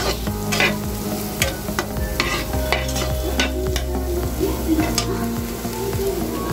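Maggi egg noodle ingredients being stir-fried in a pan: continuous loud sizzling with repeated scraping and clinking of a utensil against the pan, close by and without talk.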